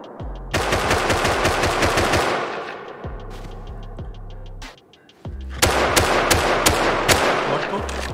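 Automatic rifle fire crackles in the Rust survival video game, with long rapid bursts of loud close shots, a short break with a lighter volley, then another sustained burst.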